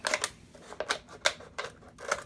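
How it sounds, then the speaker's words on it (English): Scissors snip through a plastic bottle while its top is cut off for planting tree seeds, giving a series of sharp, close, crisp cutting clicks in an uneven rhythm, with no voices. "I take scissors and I just clip it off."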